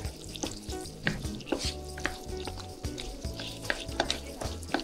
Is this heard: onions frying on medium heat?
yes